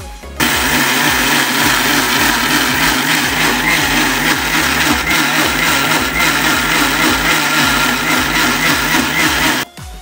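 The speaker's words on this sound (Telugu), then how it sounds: "రైస్ అండ్ మినపప్పు అయితే మనం మిక్సీలో కానీ లేదా గ్రైండర్లో కానీ మనం రుబ్బుకోవాలండి" A kitchen mixie grinds soaked rice and urad dal into batter for purnam burelu, whirring loudly with a steady, slightly pulsing motor drone from start to finish before stopping abruptly, with no talking.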